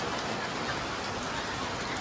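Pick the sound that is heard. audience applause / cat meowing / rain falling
rain falling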